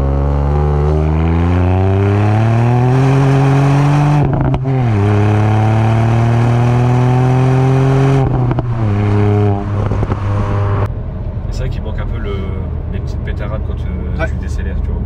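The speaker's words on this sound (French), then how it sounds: "Oh mais le turbo qui souffle, oh, comment on l'entend bien, vachement bien." A Ford Fiesta ST Mk8 pulls hard with its turbo engine, the loud close engine note climbing and briefly dipping at gear changes before easing off near the end. Voices talk over it.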